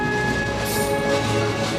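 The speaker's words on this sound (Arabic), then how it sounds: "يمر القطار عبر محطة الفجيج قرب خنقة عيشة وسط الجبال الوعرة والهضاب والصخور" Heavy phosphate freight train pulled by locomotives through rugged mountains and rocky plateaus near a rural station, a loud close rumble of rolling wagons with metallic screeching tones layered over the roar.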